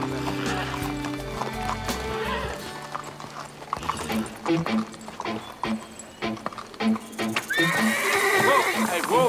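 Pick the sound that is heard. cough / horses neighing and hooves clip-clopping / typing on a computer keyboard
horses neighing and hooves clip-clopping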